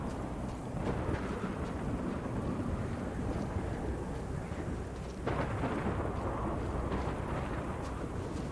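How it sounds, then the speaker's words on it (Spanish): A thunderstorm in the sci-fi horror game The Callisto Protocol: a loud, continuous wash of heavy rain with deep rumbling thunder throughout and a sudden swell of crashing noise partway through, no speech. "maldita tormenta"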